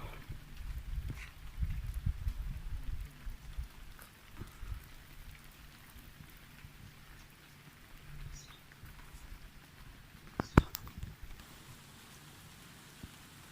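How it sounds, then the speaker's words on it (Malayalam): Heavy rain pours down steadily in a dense, hissing wash at a resort in Wayanad beside the Banasura river, with a brief sharper splash or knock partway through. "നല്ല മഴയാണ് കേട്ടോ, അടിപൊളി മഴയാണ്."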